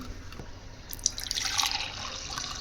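Boiled bitter gourd cooking water is strained, giving a faint trickle and dribble of liquid that grows a little toward the end in a quiet kitchen.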